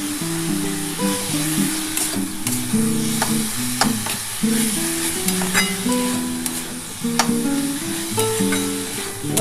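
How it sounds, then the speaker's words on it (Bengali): Veg momo filling of vegetables stirred as it fries in a pan: a steady close sizzle with repeated spatula scrapes, while a tonal melody plays underneath throughout. "এবার এটা ভালো করে একটু নাড়াচাড়া করে নিই।"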